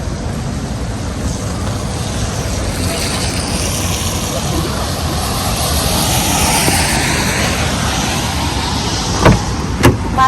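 A taxi pulls up on a rainy Shanghai street near a pedestrian area, its engine a steady broadband rumble mixed with passing traffic, rising slightly in the middle and ending with a few sharp knocks.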